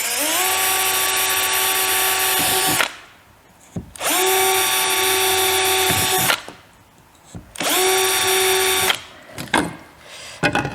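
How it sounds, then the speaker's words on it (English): A power drill bores holes into the wooden rail of a Handi Quilter Loft quilting frame, with three loud sustained whining bursts of a few seconds each and short pauses between them. "I've drilled my 2 holes at the end."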